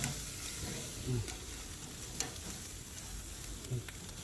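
Steak sizzling on a Kamado Joe grill gives a steady, faint crackle and hiss throughout, with a few soft low thumps as the meat is moved.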